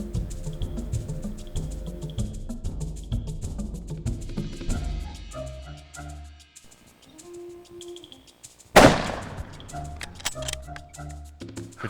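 A hunting rifle is fired at a kudu in Zimbabwe. One sharp, loud report cracks out of quiet outdoor bush ambience, where faint ticking and bird-like sounds run before and after the shot.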